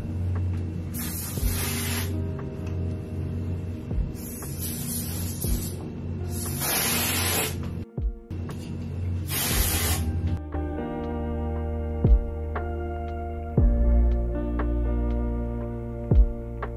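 A deodorant can sprays in several sharp hissing bursts of one to two seconds each, close and loud, followed by light clicks and handling of the can.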